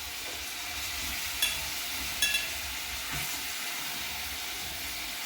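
Pomfret fish sautéing gently in a little oil in a pan over a low flame, a steady soft sizzle and hiss throughout with a few faint clinks, no talking.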